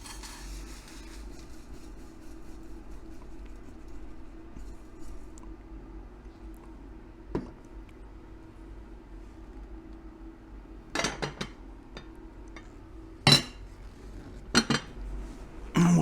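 Pure silver crystals being moved into a drying dish give sparse metallic clinks and scrapes, a few sharp taps near the end, over a quiet low hum.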